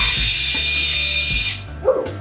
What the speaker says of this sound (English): we'll be using square bits and an impact driver to pull out